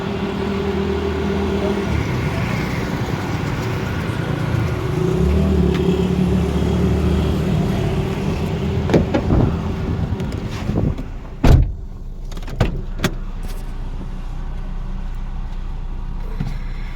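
A car idles and rumbles as people climb in, with several sharp door slams and clunks near the end over a steady engine hum; no talk.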